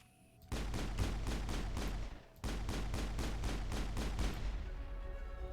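Sustained rhythmic bursts of gunfire in Mass Effect, loud and steady rapid shots with a short break before a second long volley continues to the end.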